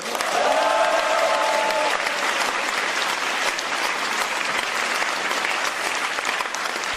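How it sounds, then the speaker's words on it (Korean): An audience breaks into loud, sustained applause at a Korean political party leader's acceptance speech, a dense wall of clapping that carries on for several seconds with some crowd noise and no talk. "그것에 동의하시면은 한번 큰 박수 주십시오"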